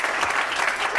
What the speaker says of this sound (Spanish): Denle un aplauso a Jesucristo en esta hora,